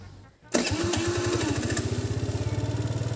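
An engine is started without any throttle. It catches after a short crank and settles into a steady, loud, rhythmic idle close by, with no talking.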